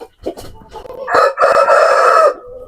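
A grey rooster crows one loud, close, drawn-out call, preceded by a few short clucks and ending in a brief tail.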